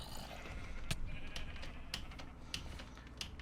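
Sheep bleating in a pen in Minecraft, a few short bleats spaced out over steady background noise, moderately near.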